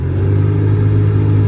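The blower motor in a two-door Jeep Cherokee XJ runs with a steady, loud droning hum, blowing debris out, constant and close throughout the short stretch.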